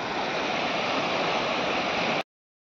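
A village stream near Khed, swollen after a single day of heavy rain, rushes with a loud, steady roar that fills the scene and then cuts off abruptly.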